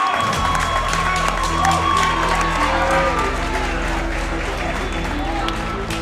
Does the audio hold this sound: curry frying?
no